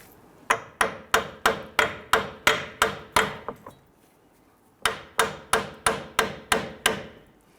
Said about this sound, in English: Once you have that nut off there, we want to go ahead and tap that through.